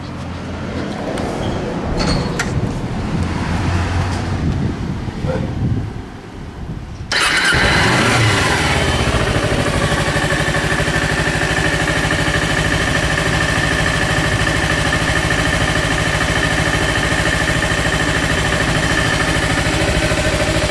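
A 2011 Kawasaki Ninja 250R Special Edition motorcycle fires up after a quieter lead-in, its engine catching abruptly and then settling into a steady, loud idle that holds close by for the rest of the stretch.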